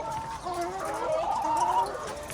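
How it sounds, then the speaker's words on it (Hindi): Chickens on a poultry farm cluck and chatter in a short, close burst of overlapping calls. "ये देखिए ये बड़ी मुर्गियाँ हैं और ये नीचे जो है ये छोटे हैं।"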